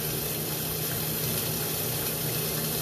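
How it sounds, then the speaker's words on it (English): Water from a toilet fill line washes down through the toilet flange with a steady, continuous rushing and gurgling flow, close and fairly loud throughout. "What you're seeing is a higher amount of water being washed down through this flange here from the fill line"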